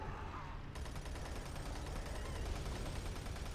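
Gunfire from Doom 3 BFG sounds as a dense, continuous roar of rapid shots that grows louder and fuller after the first moment and holds steady throughout, with no pauses between them.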